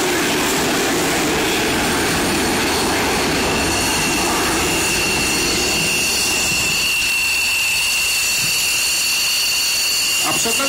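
Belgian Air Force F-16 jet at an air show in Radom, a loud sustained roaring hiss of jet engine that eases slightly toward the end, with a crowd and a commentator's voice underneath.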